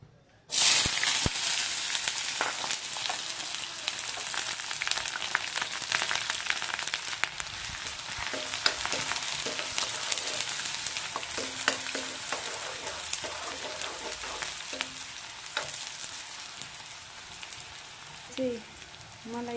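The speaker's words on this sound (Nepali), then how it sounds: "मेरो तेल चाहिँ तातिसकेछ। अब यसमा म फर्स्टमा प्याज एड गर्छु।" Chopped onion frying in hot oil for noodles gives a steady, loud, broadband sizzle with crackles, stirring sounds here and there, and a few brief kitchen clatters near the end.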